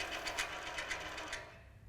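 Harbor Freight 7x10 mini lathe motor running on a PAC5556 controller as its PWM speed is raised, giving a steady mechanical whir with rhythmic rattling pulses, close and moderately loud, easing off toward the end.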